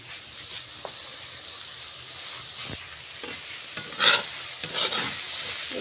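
Gima greens (gima shak) fry and get stirred in a pan, with a steady soft sizzle and hiss broken by sharp scraping strokes and a couple of louder spatters near the end, with no voices.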